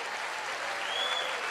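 A motivational seminar audience applauds, a continuous, even wash of many clapping hands, moderately loud and alone, with a faint whistle rising in the middle.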